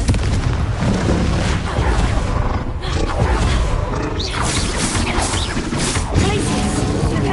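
Confringo blasting spells in the Hogwarts Legacy video game, heavy continuous roaring blasts and booms layered with chaotic combat effects, loud and dense throughout with no pause.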